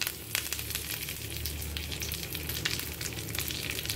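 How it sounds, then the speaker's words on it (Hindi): Curry leaves crackle and sizzle as they drop into hot oil for tempering a quinoa khichdi, a steady close frying hiss with sharp pops throughout, no voices. "तड़क गया, तो अब मैं इसके अंदर डाल रही हूँ करी पत्ता।"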